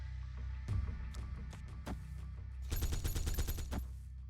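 Cartoonish gunfire animation from the Marvel Snap card game, bursts of rapid shots in two clusters over a low steady hum, fairly loud with no talking.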